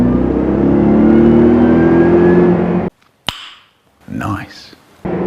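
A supercharged Toyota Tundra V8 pickup on 38-inch wheels accelerates hard, a loud sustained engine roar that cuts off abruptly, followed by a sharp click and brief voices.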